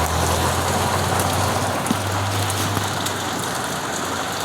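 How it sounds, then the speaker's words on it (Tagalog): Heavy rain pours continuously with a dense, loud hiss and pattering, steady throughout, alongside a low rumbling hum. "lakas talaga ng rain. Lakas talaga."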